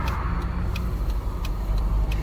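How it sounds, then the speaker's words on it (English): Cars pass on an island road near a marina and boat ramp, a steady broad rumble of traffic going by up close, with faint ticking high sounds and no talk. "As soon as these cars get by,"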